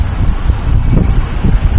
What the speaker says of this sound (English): I don't know how many miles per hour this wind is